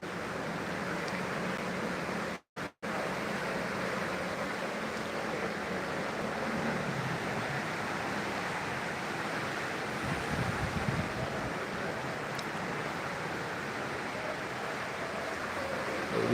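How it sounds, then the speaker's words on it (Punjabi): The flooded Ravi river rushes beneath a bridge, a continuous broad roar of fast water with wind buffeting the microphone, steady and loud throughout with a momentary dropout. "ਇੱਥੇ ਪਾਣੀ ਦੀ ਆਵਾਜ਼ ਦੇਖ ਕਿੱਦਾਂ ਖੜਕਦੀ, ਉਹ ਵੱਜਦੀ ਆ ਨਾ ਪੁਲਾਂ ਦੇ ਉਹਦੇ ਵਿੱਚ"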